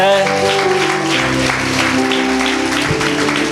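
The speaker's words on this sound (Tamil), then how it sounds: "கைத்தட்டி ஆண்டவரை மகிமைப்படுத்துங்க" Congregation at a Tamil church dedication anniversary thanksgiving service clapping hands together in praise, loud steady applause over sustained musical tones.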